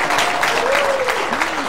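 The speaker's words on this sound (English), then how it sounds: "Everybody, will you please welcome with a big round of applause, Veronica" Studio audience applause welcoming a contestant on a game show, a brief, steady, fairly loud burst of clapping with a voice talking over it.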